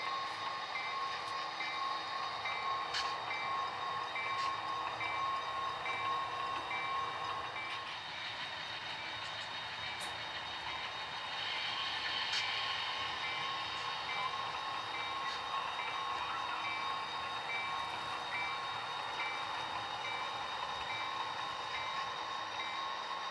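A model train runs steadily on a shelf layout with a faint continuous rolling hum and light rail clatter, carrying on with no talk.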